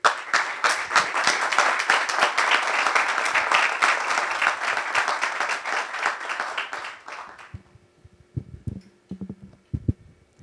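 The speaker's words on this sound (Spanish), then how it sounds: "les damos un fuerte aplauso" Audience at a debate on capitalism and women applauds with dense, steady clapping for about seven seconds, then the applause cuts off, leaving a few faint knocks and handling sounds in a quiet room.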